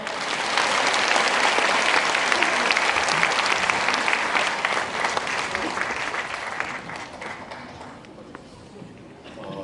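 Sustained applause from an audience at a Korean Christian union revival gathering for Liberation Day in Yangcheon-gu, Seoul, as a pastor comes forward to give a welcome address. The clapping is loud and dense, then thins slightly toward the end.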